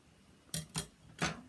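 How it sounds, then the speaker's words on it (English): Scissors cutting through folded ribbon toward the center: three short, crisp snips, close and quiet against a near-silent room. "Fold my ribbon in half and cut in towards the center."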